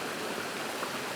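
Steady broadband rush of a stream and waterfall by Scotland's Fairy Bridge, a continuous even wash of flowing water with no breaks or voices.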